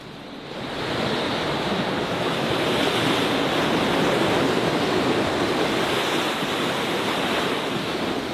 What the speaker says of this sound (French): Écoutez le bruit des vagues qui s'écrasent.